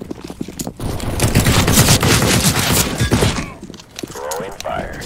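Decoy grenade in CS:GO on the Vertigo map mimicking rapid gunfire, a loud sustained burst of automatic-style shots lasting a few seconds before tapering off, with game sounds continuing after.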